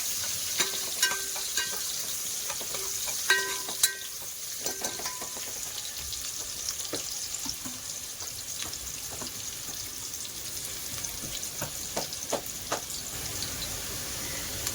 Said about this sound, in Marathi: सोनेरी रंगाचा येईपर्यंत परतून घेऊया